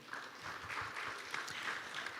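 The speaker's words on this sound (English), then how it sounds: "Please give applause to him." Applause from an audience at a live ASEAN forum on peace and tolerance, a steady wash of clapping at moderate volume that carries on for a couple of seconds.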